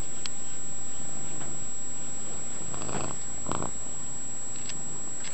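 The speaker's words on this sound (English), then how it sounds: "Oh, that's a little kitty." A small kitten purrs close by indoors, a soft continuous rumble beneath a steady high electrical whine, with a few brief scuffling bursts in the middle.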